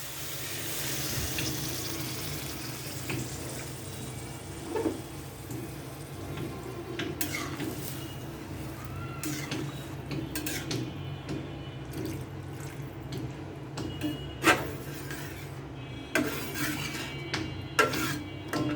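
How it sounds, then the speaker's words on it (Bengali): Water runs steadily into a curry pan to make broth for a Bengali dish, a continuous soft splashing stream with occasional clinks of utensils against the pan. "এখন আমি দিয়ে দিচ্ছি ঝোলের জন্য পানি।"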